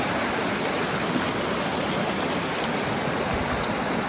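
A fast-moving mountain stream in the Smoky Mountains rushes over rocks in a steady, close hiss of churning water, even and continuous with no voices.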